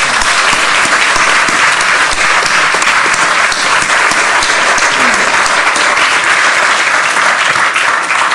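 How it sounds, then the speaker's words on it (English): Loud, sustained applause from a large audience at a climate target event, dense and even clapping filling the room without pause. "Let's give another round of applause."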